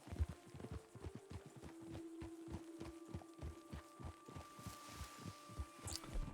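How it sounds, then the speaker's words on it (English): Horse hooves clip-clop at a steady riding rhythm in Red Dead Redemption 2, faint and even beneath a low ambient hum. "Nightingale is definitely the right horse"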